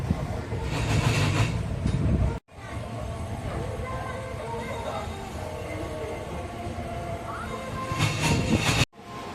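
A passenger train arrives at Mandapam station, with a steady rumble of rolling carriages and wheel noise, fairly distant and interrupted by two brief cuts, while someone speaks over it.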